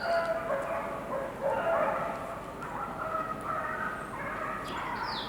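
Dogs bark somewhere off in the distance at a golf course during the 1984 Masters final round, faint and scattered under a low murmur of outdoor crowd noise.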